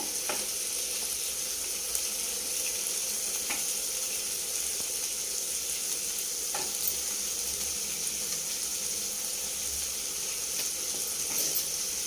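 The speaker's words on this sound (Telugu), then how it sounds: "పచ్చిమిరపకాయలు వేగితే పుంపులు వస్తాయి" Green chillies sizzle and fry in a pan for a ridge gourd masala curry, a steady close crackle with small pops throughout and no talking.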